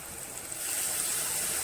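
Tamarind water pours into a pan of sardine fish curry, a steady liquid gush that swells after the first half second and keeps flowing evenly, close and fairly soft.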